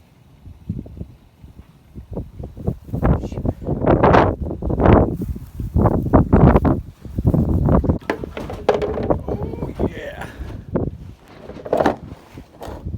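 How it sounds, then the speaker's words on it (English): Strong gusts buffet the microphone in rough, rumbling surges, with a brief spoken remark mixed in. "So windy, it's ridiculous."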